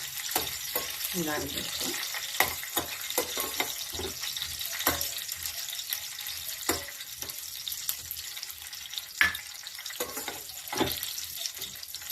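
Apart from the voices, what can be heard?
cashews and raisins roasting in a pan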